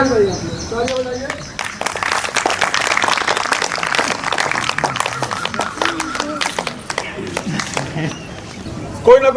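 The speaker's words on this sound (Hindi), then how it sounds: "तालियां बजाइए" An audience clapping at a Sunday morning motivational gathering at a hospital in Lucknow: dense, continuous applause from many hands filling the room, with a voice speaking over it.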